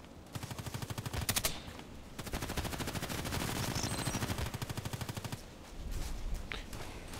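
Rapid automatic gunfire in the shooter game Contract Wars, long sustained bursts of close, loud shots with brief pauses between them, and no talking over it.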